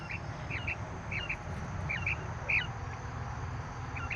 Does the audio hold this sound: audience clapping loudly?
no